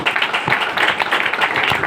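Audience clapping in a training class at a trading company's head office, a dense steady patter of many hands sustained throughout, moderately loud and close, with no talk over it.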